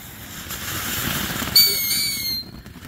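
A Santan Fireworks Cuckoo firework goes off on a street pad, giving a sharp pop followed by a high whistling squeal that trails briefly, heard fairly close over outdoor background noise.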